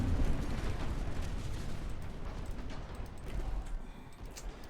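Naval gunfire and shell explosions in the warship game Ultimate Admiral Dreadnoughts roll together into a dense, continuous low rumble with scattered booms throughout.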